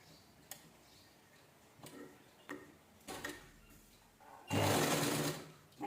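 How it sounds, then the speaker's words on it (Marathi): A sewing machine stitches piping onto a blouse in short bursts of whirring with ticking mechanical clicks between them, close by, ending in one longer, louder run of stitching. "आणि एक सलग स्टिच करून घ्यायचं म्हणजे व्यवस्थित एकसारखी शिलाई आली पाहिजे"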